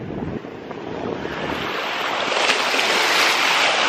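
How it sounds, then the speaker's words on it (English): Ocean waves washing onto a beach under steady, strong wind noise, a continuous dense roar that swells slightly louder toward the end, with no voices. "This is her first time at the beach here."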